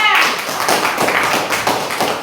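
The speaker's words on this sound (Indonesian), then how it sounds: "coba berikan tepuk tangan untuk kelompok 3" A group claps together in brisk, steady applause, close and fairly loud, lasting a couple of seconds.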